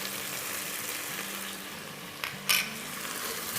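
Chicken sizzling in a pan with turmeric and crushed black pepper, a steady soft frying hiss throughout, with a brief stirring scrape near the end.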